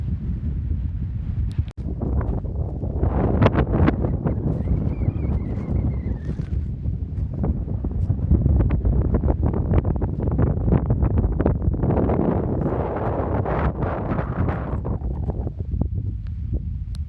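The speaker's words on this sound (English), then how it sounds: "these are some seriously strong winds" Heavy wind buffets the microphone continuously, a loud low roar with gusty thumps; a faint whistling tone rises briefly partway through.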